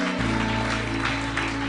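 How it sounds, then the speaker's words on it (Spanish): Congregation applause during a church service, a steady dense clapping wash that fills the clip, with a sustained tonal hum, likely music, underneath. "Cuando un aplauso al Señor en esta noche."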